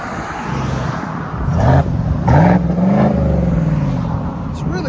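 A truck engine breathing through a Borla Atak LS crate muffler revs up twice in short, deep bursts, then settles back to a low rumbling idle, close and loud.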